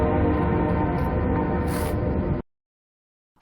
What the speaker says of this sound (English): You can hear the train whistle.